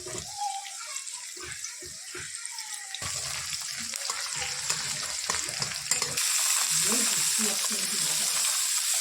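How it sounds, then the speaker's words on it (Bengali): Onions, carrots, capsicum and other chopped vegetables fry in a pan for pasta, crackling and sizzling steadily with intermittent stirring scrapes and clinks, loud and close. "গাজর ক্যাপসিকাম সব সবজিগুলো একটু ভেজে নেব। পেঁয়াজগুলো দিয়ে দিয়েছি, পেঁয়াজটা সামান্য ব্রাউন করে নেব।"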